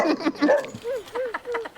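A sick-seeming dog whimpers and yips in a snowy winter setting, a series of short, high, wavering whines repeated in quick succession, fairly close and clear.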